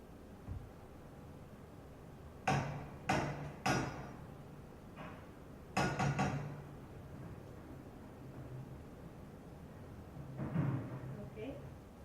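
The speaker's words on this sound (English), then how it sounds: "The same door knocker, but from the hall, sounds like this." Door knocker heard from the street on Carrer d'Anna Margós, number 11: a few distinct metallic raps in separate bursts, set apart at moderate distance over a steady urban background hum.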